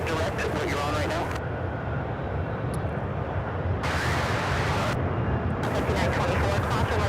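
An airliner takes off at Charlotte Douglas airport with a loud, broad engine roar that holds steady for the whole stretch, and bursts of radio chatter and talk cut in over it.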